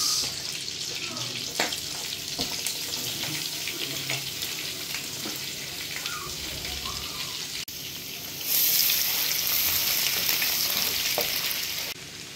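Garlic sizzles in melted butter in a pan while tiger prawns and mussels are being cooked. A constant crackling hiss grows louder and brighter partway through, with no voices.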